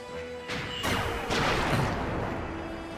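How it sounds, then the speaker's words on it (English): Ship cannons firing during a naval battle in Suikoden IV, two or three loud, close blasts in quick succession, each a sharp crashing burst that trails off into a rumbling boom. "Fire cannon, fire."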